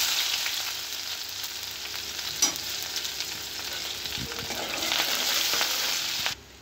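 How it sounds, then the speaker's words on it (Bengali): Onion frying in hot oil gives a steady, close sizzle throughout, with a few brief stirring knocks and a sharp tail-off at the end. "তেল গরম হয়েছে। তারপরে দিয়ে দেবো পেঁয়াজ"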